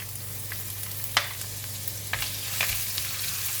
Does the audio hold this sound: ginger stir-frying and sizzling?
yes